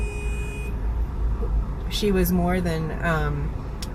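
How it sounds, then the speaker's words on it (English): Car horns honk in surrounding traffic, with sustained horn tones at the start, followed by someone talking over the steady street noise. "sorry, there's honking around me."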